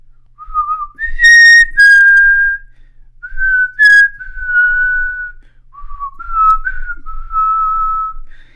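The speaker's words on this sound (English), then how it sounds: "I'm gonna whistle just the little bit" Someone whistles a short piano melody, a string of clear sustained notes with small pitch steps and a couple of higher chirps, close and loud with no talking.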